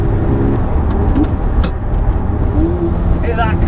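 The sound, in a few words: supercar click-clack sound while driving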